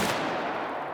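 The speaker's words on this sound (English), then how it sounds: "Even with the sounds of gunfire." Gunfire in the video game The Outer Worlds: a single loud, sharp burst that fades quickly into a short rumbling tail.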